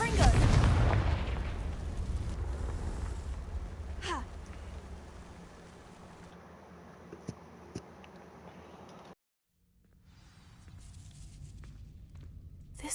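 Confringo fire spell from the Hogwarts Legacy game igniting dry vines, a loud burst opening the clip that fades into a crackling rumble, a few faint footsteps and thuds, then a brief silence and low ambience.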